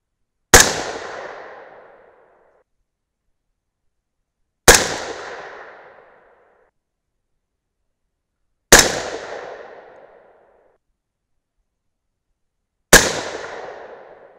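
Four loud, sharp rifle shots from a .22 Nosler firing 223 loads, spaced about four seconds apart, each a sudden blast with a decaying ring and silence between.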